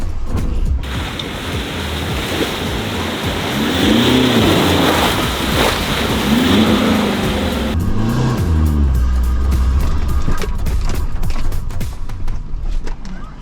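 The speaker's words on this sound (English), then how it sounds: "This is my actually first time pretty much driving a manual N70" A manual N70 4x4 engine revs and pulls during off-road driving, with rising and falling engine tones over a loud, continuous rumble of wind and terrain, recorded close from inside the vehicle.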